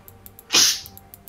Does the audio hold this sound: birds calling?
no